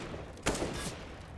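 MP9 submachine gun fire in Counter-Strike on the Cache map, a short cluster of rapid shots in the middle of a brief, fairly faint stretch of game ambience.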